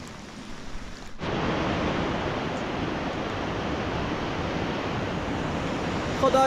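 Heavy rain pours in a nomadic highland area while a flooded river rushes nearby, a dense, steady roar of water that swells suddenly after a second and stays loud and constant, with no talking.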